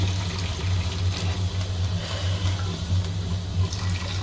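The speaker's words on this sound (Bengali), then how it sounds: "পানি দিয়ে দিচ্ছি এখানে।" Water poured into a cooking pot of browned rice for chicken pulao, a steady, continuous splashing stream close by with a low hum beneath it.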